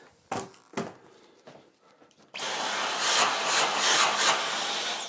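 Dyson cordless stick vacuum cleaner switching on and running at strong suction across a floor, a steady loud broadband whoosh after a few handling knocks and bumps.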